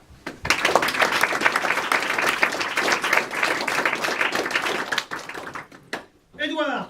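Audience applauding at the end of a theatre performance by the company Les uns ou les autres: dense, steady clapping from a full room that swells, holds for several seconds and then thins out, followed by a brief spoken voice at the end.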